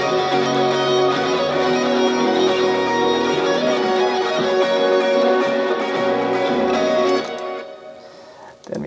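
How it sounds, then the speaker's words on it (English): A full music mix with sustained guitar layers among other instruments, steady and loud, then dropping away near the end. "Then we have some guitars."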